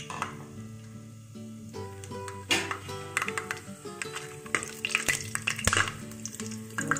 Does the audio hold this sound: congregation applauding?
no